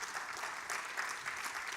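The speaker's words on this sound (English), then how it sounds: "An applause again to Pedro." A room of people applauding after a workshop presentation, a brief burst of even, steady clapping heard from some distance and fairly faint.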